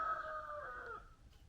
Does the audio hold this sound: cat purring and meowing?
no